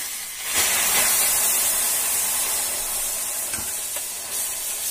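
Milk hits a hot pan during curd making, giving a steady, broad sizzling hiss that swells and settles over a few seconds, close and fairly loud, with no talk.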